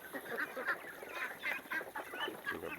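A flock of Khaki Campbell laying ducks quacks and chatters continuously at a farm, many overlapping calls close by with steady background noise.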